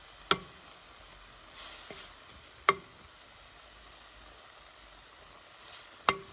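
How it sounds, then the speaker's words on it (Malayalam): Mustard seeds fry in hot oil as tempering for a squid stir-fry, faint sizzling broken by a few sharp pops and clicks spaced apart in a quiet kitchen. "ഇതുമ്പോൾ നമുക്ക് കടുകൊക്കെ വറുത്ത് ഇടാം"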